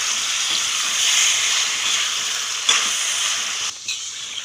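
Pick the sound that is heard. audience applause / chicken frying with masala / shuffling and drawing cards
chicken frying with masala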